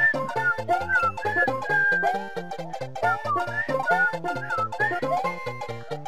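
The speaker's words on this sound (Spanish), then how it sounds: "me olvidé que estaba grabando y estoy silbando como huevo" Someone whistles a continuous melodic tune over electronic background music from a Super Mario Maker gameplay session, loud and close throughout, with no talking.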